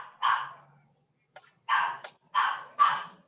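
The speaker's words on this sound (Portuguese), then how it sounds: "brigar com outro cachorro" A dog barking while fighting with another dog, four sharp, loud barks close by, with one after a short pause and then three in quick succession, plus a faint yip between them.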